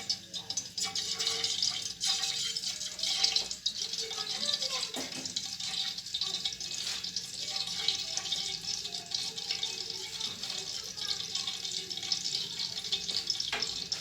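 Oil and ghee heating in a cooking pot for chicken yakhni pulao, giving a steady bubbling sizzle at moderate loudness with a voice talking over it.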